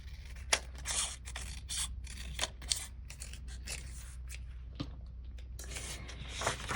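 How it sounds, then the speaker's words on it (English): Scissors snip and trim a paper sticker in quick, close, crisp cuts that come in irregular clusters over a low steady background hum. "I'm gonna trim it down a little bit here."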